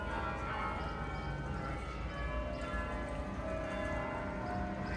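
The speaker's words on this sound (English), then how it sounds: "There goes the tower bells. You can hear them in the distance." Church tower bells ring far off in the Netherlands, a soft sustained peal blended into a constant outdoor hum.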